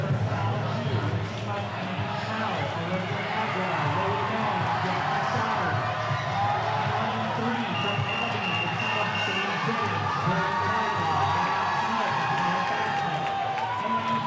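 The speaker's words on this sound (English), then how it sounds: "The whole crowd cheering for them." A crowd at a swimming championship final cheers and whoops continuously, broad and steady throughout, with voices talking over it.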